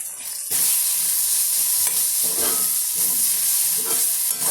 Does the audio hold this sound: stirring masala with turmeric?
yes